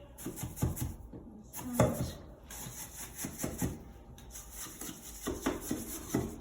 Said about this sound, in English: just tuck it behind like that with your smoothing brush